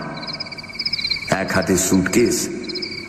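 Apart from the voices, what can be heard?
crickets chirping at night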